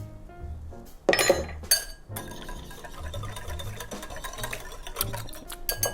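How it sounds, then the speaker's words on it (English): Metal whisk clinking against a bowl while beating a garlic and nutmeg mixture for kale pesto crostini, a bright sharp burst of clatter early on, then steady rapid scraping and tapping over background music. "All right, we're whisking this."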